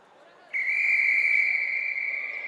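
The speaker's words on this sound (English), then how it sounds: "waiting for the ref's whistle" A referee's whistle starts a netball match at the Asian Netball Championships, sounding as one loud, steady, sustained blast that cuts in sharply and holds for about two seconds.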